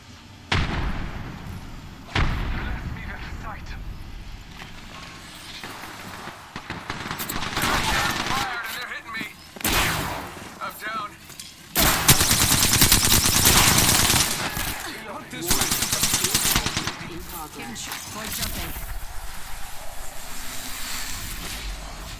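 Rapid automatic gunfire and bursts of shots from a shooter video game, loud and dense, with thumps and explosions mixed in during a combat stretch, repeated volleys rising and falling over about twenty seconds.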